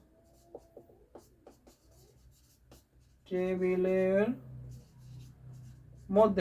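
A pen writes on paper while a DBMS question from a Bangladeshi HSC ICT exam is worked through, giving faint, quiet scratchy strokes and taps before a voice starts speaking.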